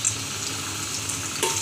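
Stuffed capsicum chillies fry in a kadai with a soft, continuous hiss over a short stretch, joined by a brief splash or clink near the end.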